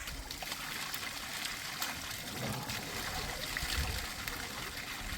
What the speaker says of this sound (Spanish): Es una vertiente de agua natural.